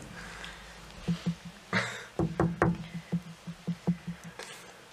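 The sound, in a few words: knocking on a door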